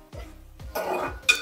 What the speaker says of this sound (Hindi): And then I am gonna add this chicken. इसको थोड़ा स्टर कर लेती हूँ लाइक दिस.